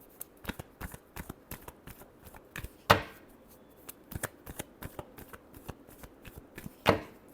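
Playing cards shuffled in a tarot-style reading, a rapid run of crisp riffling flicks with two sharper bridge snaps standing out, close and alone without talk.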